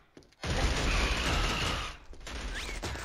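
Sustained burst of enemy machine-gun fire in the shooter Killzone HD on PS3, a loud dense rattle that starts abruptly and runs steadily for about two seconds before easing into lighter, scattered shots.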